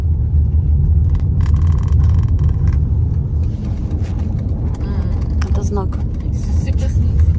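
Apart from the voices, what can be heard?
car driving slowly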